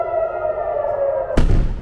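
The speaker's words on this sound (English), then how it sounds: "Sirens through the night," Air raid sirens in Israel during an Iranian missile attack wail in a long sustained tone, then a sudden loud boom-like burst cuts in and rumbles briefly.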